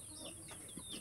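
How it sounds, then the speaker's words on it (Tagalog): Soft clucking of chickens at a short distance in Guinayangan, Quezon, a few brief calls over a steady background hiss. "Daming manok."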